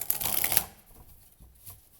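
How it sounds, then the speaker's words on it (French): Tarot cards being shuffled, a quick riffling burst followed by softer brief card rustles, close and alone. "je me demande si j'ai bien brassé les cartes"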